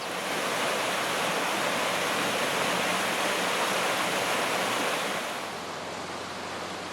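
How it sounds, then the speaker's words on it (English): Steady broadband rush of river water pouring through a water mill in a valley, a loud continuous roar that eases slightly near the end, with no voices. "And then I came across this water mill here."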